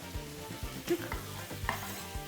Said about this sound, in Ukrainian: гомілки і смажимо 5-7 хвилин до золотавої шкоринки